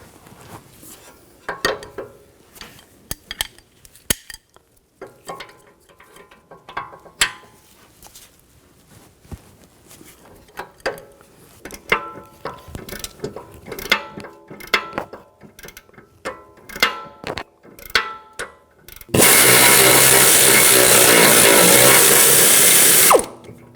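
Ratchet clicking and mechanical clatter on brake bracket bolts of a Jeep Grand Cherokee, a 21mm socket in use, comes in irregular bursts, then a loud steady whir of a power tool takes over near the end.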